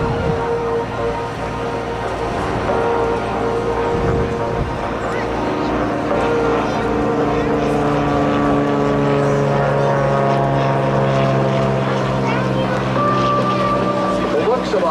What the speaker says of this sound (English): Cirrus design airplane